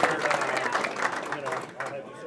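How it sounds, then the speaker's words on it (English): A crowd applauds the servers at an evening Vegas Night fundraiser, brief moderate clapping spread across the room with voices mixed in, fading a little near the end. "We have a round of applause to all of the servers in the house tonight."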